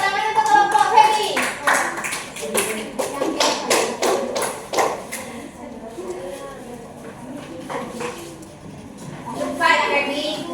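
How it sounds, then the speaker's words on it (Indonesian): Classmates clapping for a student group, a burst of hand claps for several seconds that then gives way to talking, with a little more clapping near the end. "Tepuk tangan untuk kelompok Baby."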